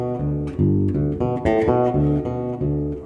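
Bass guitar plays a Bach phrase with heavily exaggerated rubato, the notes stretching and rushing unevenly; clear, close, sustained low tones with no talking.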